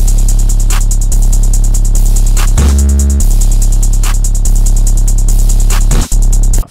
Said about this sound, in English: this is what all the drums sound like together